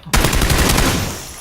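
A loud burst of rapid gunfire in the video game PlayerUnknown's Battlegrounds starts abruptly nearby and keeps rattling in a dense, sustained volley that slowly fades.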